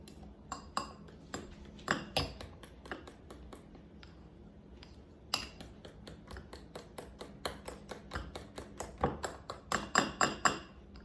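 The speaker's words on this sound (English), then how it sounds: "Mix well the ingredients." Pandan-flavored sapin sapin ingredients are stirred in a bowl, a spoon or utensil clinking against the sides in a steady run of sharp taps, with a short pause midway before the clinking resumes, close and fairly loud, no talking.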